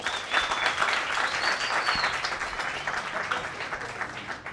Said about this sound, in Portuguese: Eu quero que vocês recebam ele com fortes aplausos.